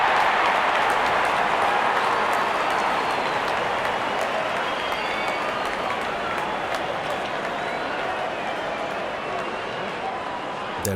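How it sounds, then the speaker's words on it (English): A stadium crowd in a cricket video game cheers and applauds continuously in a dense, steady roar as the openers walk out, fading only slightly toward the end. "Openers walking in and the crowd cheering in anticipation."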